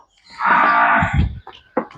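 A cow or buffalo on a farm in Barnala district, Punjab, gives one long, loud, close moo lasting about a second, followed by short rustling sounds.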